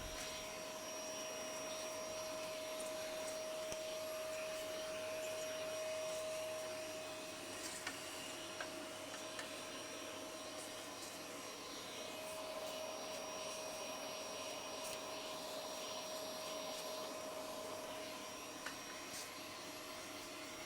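Loud, steady roar of a vacuum cleaner running continuously while cleaning an Asus PC screen, with a sustained whine and small bumps and shifts as the nozzle moves.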